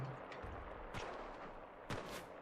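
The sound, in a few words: gunfire from an American gun in the video game Enlisted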